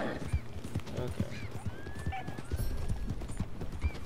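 A horse in the video game Red Dead Redemption 2 trots with steady clip-clop hoofbeats and whinnies several times, with faint gameplay sound effects underneath.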